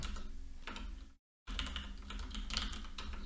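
Close, fast typing on a computer keyboard, a dense stream of clicks broken by a brief silent gap, with no talking.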